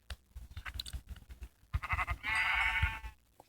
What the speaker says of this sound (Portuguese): Uma ovelha pra matar.